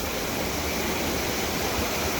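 Waterfall at Dhanolti, Uttarakhand, roaring as a steady, dense wash of falling water, loud and continuous with no pauses or voices.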